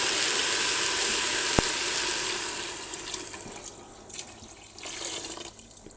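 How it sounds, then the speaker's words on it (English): Water pours from a tap into a pot of browned beef for Louisiana beef and potato stew, a steady close rushing stream that thins and turns uneven toward the end. "our next step is going to be to add some water"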